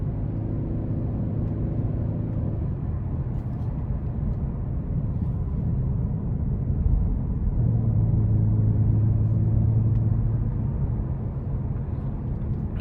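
A 2022 Genesis G70 3.3T in sport mode heard from inside the cabin, a steady, loud low rumble of engine and road noise whose tone rises and swells midway through as it accelerates.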